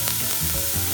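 Minced garlic and lemongrass sizzle loudly in a hot pan, a dense, steady crackling hiss, close up with no talk.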